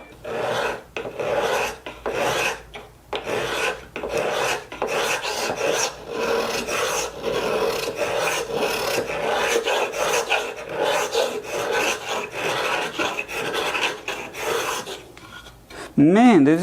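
A homemade scratch stock scrapes along wood to cut a molding, giving a steady, rasping run of repeated strokes close by for most of the stretch, ending in a brief different whine.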